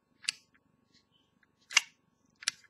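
A few sharp metallic clicks from a Zippo-style lighter lid snapping open and shut, three distinct crisp snaps spaced apart at close range in a quiet room.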